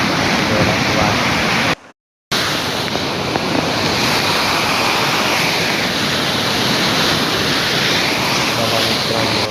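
Water rushes hard over a check dam, a loud, steady broadband roar that fills the scene nearly throughout, broken only by a brief gap of silence early on.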